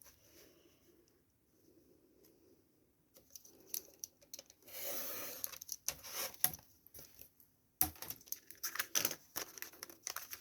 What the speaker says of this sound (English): I'm going to cut that edge off the top so it's nice and smooth